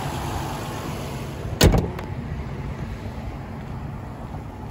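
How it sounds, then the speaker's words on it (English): A 2017 Nissan Murano V6 idles with a low, steady rumble, broken once by a single sharp knock or clunk near the middle, then settling back to the even engine hum. "V6 motor."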